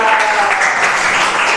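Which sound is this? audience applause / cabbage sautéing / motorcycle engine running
audience applause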